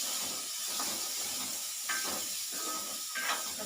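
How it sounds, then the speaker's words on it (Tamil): Bitter gourd slices sautéing in a pan with turmeric powder for a no-onion, no-masala pavakai fry give off a steady, close hiss and sizzle throughout, with a few brief brighter flares of frying. "மஞ்சள் தூள் போட்டு கொஞ்சம் நேரம் வதக்கணும்"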